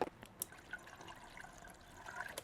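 Distilled water pours into the coolant reservoir of a Land Rover Discovery 2 during a cooling system overhaul. It makes a steady, gurgling trickle with a few louder splashes and drips, heard fairly faint up close.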